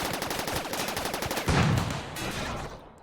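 Automated turrets in the RimWorld video game fire rapid, evenly spaced bursts of shots. A heavier, denser blast of fire follows before the sound tails off and fades.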